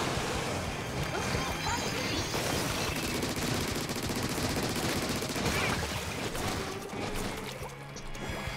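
Weapons firing in the video game Splatoon 3, a relentless, dense barrage of splattering shots and crashing impacts that stays loud and continuous throughout.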